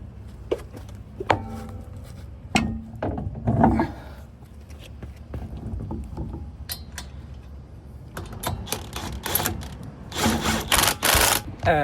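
Bursts of a pneumatic impact gun rattle as lug nuts are run onto the wheels of a Nissan 370Z drift car, short zipping runs separated by pauses, with clanks of tools and parts in between.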